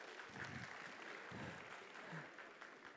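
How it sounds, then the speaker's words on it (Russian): A live audience claps in response to a performer at a stage show. The quiet, steady applause holds for a few seconds, with faint crowd murmur beneath it. "Похлопайте, если я угадал."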